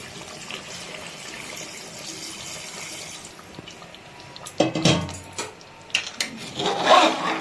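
Hot water poured into a pot of mutton curry with potatoes, a splashing burst of liquid that starts midway and continues in irregular pulses, fairly close and alone without talk.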